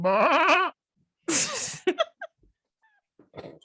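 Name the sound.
person imitating a goat bleating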